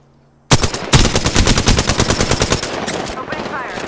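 Gunfire in the battle-royale video game Apex Legends, rapid automatic fire that bursts in suddenly after a brief near-silence and continues in a loud, fast rattling stream of close shots.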